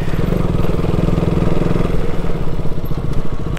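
Motorcycle engine chugs along a mountain road, a loud close-up rumble with rapid pulsing firing beats and a little clatter, steady throughout with no talk.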